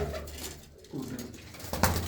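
A black Chinese pigeon coos in short, soft bursts close by, with a louder low call near the end and no talking.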